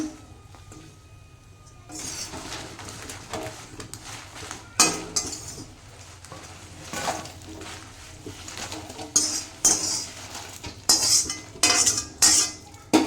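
Dishes and cutlery clink and clatter in a series of sharp knocks as fried dry red chillies for a chutney are moved onto a plate, growing busier and louder toward the end.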